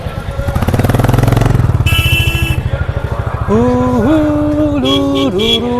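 A motorbike parked at a Mahakumbh 2025 show venue is started and revved, its engine chugging rhythmically and loudly up close, followed by steady running engine noise with shifting tonal whine over it.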